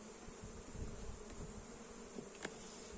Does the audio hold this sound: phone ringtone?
no